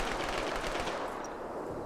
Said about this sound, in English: And there are the gunshots.